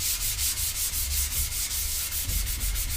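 Sandpaper works primer on a skateboard deck, rubbing out imperfections in the coating. Quick, even back-and-forth strokes rasp close by at a steady rhythm, roughly four per second, with no voices.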